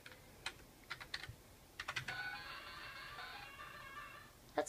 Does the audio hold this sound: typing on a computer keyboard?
yes